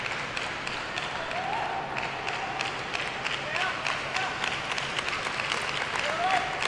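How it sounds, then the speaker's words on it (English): A table tennis stadium crowd claps steadily during a China versus Japan Asian Championships semi-final, the fairly faint, echoing applause running throughout under a commentator's talk, with occasional higher squeaks mixed in. "The claps are resounding. You can hear them echo across the stadium"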